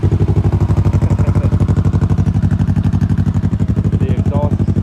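A Kawasaki Ninja 650 motorcycle engine idles close by with a steady, even exhaust pulse, its rumble carried throughout while its exhaust blows onto a tire with a nail in it.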